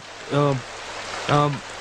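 Steady hiss of rain falling throughout, with two short bursts of a voice speaking over it.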